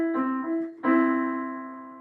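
A pair of pitches a major third apart (4 to 5 ratio) rings out together twice, the second onset stronger and decaying smoothly, a clean sustained dyad with no voices.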